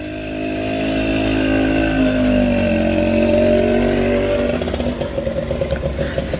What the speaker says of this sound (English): Someone needs to fix their muffler.